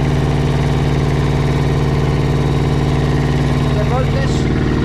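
A boat's generator engine runs at a steady idle, a loud continuous low hum with constant vibration throughout, a brief higher chirp near the end.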